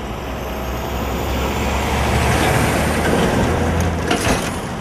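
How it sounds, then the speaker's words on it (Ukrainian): Heavy trucks roar past on the Kyiv–Kharkiv highway near Poltava as they are diverted, a loud, steady rumble with passing engine noise close by. "Патрульні відправляють вантажівки в об'їзд."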